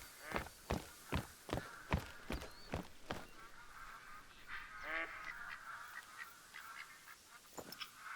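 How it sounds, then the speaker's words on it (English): Mallard ducks calling in a hunting video game set in a lakes district, a run of loud quacks in steady rhythm through the first few seconds, then scattered fainter calls over soft ambient background. "Hearing some mallard."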